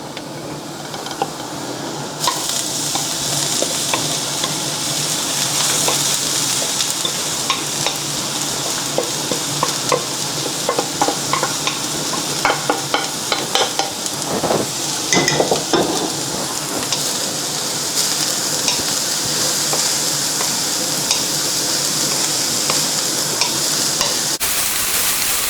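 Cauliflower rice with garlic frying over high heat gives a loud, continuous sizzle, broken by quick scraping and tapping as it is stirred in the pan.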